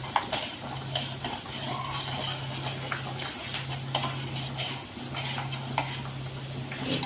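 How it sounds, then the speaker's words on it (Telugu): Cashews fry in a pan with peanuts and cumin, giving a soft continuous sizzle broken by repeated scrapes and clinks of a spoon stirring against the metal, with a low background hum. "జీడిపప్పు అది కొద్దిగా ఫ్రై అవుతుంటే కలర్ చేంజ్ అవగానే"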